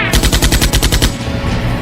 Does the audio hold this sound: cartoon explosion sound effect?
yes